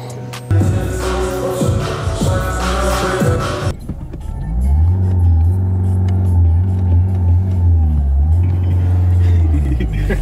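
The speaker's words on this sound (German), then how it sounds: "Der macht da einen guten Sound, nämlich der Renault Clio." Renault Clio engine revs hard through a loud, rough run of rising and falling pulls, then settles into a deep, steady droning rumble as the car accelerates, close and loud with no talking.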